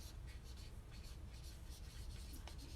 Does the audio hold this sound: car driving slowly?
no